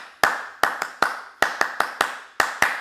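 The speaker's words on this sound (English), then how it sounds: "Can you clap that for me?" Hands clap out a football chant rhythm: about ten sharp, close claps in an uneven, syncopated pattern with short gaps between groups.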